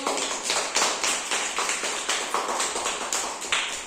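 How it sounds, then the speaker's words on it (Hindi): Children clapping together in a steady rhythm, about a dozen even claps in a row, close and moderately loud, with no talking. "हाँ, ताली बजाओ।"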